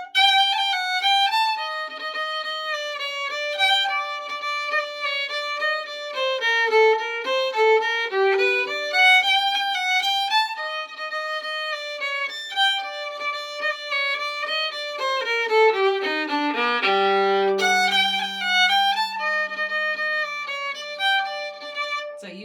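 The B part of the Quebecois reel Reel Beatrice is played as a continuous, bright melodic line of quick, clearly pitched notes with steady rhythm, alone and without talk, ending on a sustained low note.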